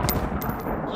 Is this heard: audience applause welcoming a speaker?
no